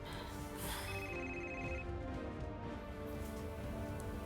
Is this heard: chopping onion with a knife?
no